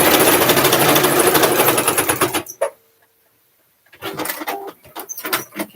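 A sewing machine stitches through layers of a zipper pouch made from fabric scraps, a fast, close, rattling run that stops briefly, then restarts in shorter bursts.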